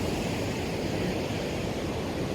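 Atlantic Ocean surf breaks at Lahinch on the Irish coast, a continuous loud wash of waves with some wind rush, unbroken and with no one speaking.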